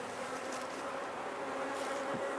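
A dense, steady swarm of honeybees hums right beside an open hive while it is being inspected. The buzzing is continuous and loud and fills the whole stretch, with no voices over it.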